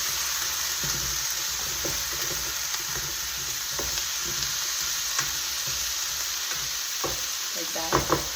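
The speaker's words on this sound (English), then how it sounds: "I'm gonna add these Brussels sprouts. I'm gonna mix all this." Brussels sprouts fry in a hot pan with a loud, constant sizzle. A spatula scrapes and knocks against the pan repeatedly, and a few sharper clatters come near the end.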